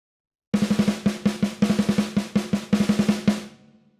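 A close, loud drum kit fires off a quick pattern of strokes that starts as dense 32nd-note hits and relaxes into 16th notes, ending with a ringing decay, with no talking.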